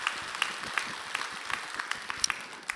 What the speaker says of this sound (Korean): 우리 제이남 신도이 너무 수고하셨는데 박수 한번 해주셔요